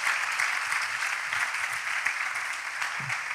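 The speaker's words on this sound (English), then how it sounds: "Let's keep clapping for this young man" Steady, dense clapping from a crowd at a Ghanaian school freshers' orientation, even and sustained throughout with no pauses.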